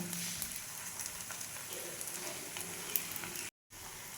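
A healthy semolina tiffin snack cooking in a pan, giving a soft, even, continuous sizzle with faint crackles and a brief dropout to silence near the end.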